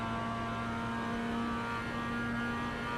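A race car's engine drones steadily down the straight at Lime Rock Park in iRacing, a constant high-revving whine with no pauses, heard alone.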